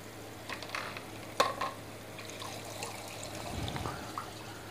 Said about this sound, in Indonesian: jika Agan lihat ini dibuka, itu airnya benar-benar deras